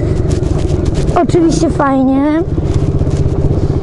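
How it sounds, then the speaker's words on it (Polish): A Kayo 110 quad bike engine drones steadily while riding, a close, rough buzzing hum that runs throughout under a voice speaking briefly. "I no, fajnie się jeździ na kładzie."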